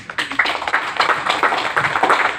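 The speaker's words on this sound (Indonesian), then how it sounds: "tepuk tangan" An audience claps steadily for a couple of seconds at a seminar talk, a dense, close patter of many hands with no voices over it.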